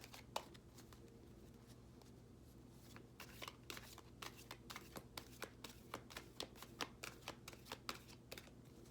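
A deck of cards being shuffled for a single card draw, with a steady run of crisp riffling clicks that grows busier and louder toward the end. Nobody speaks.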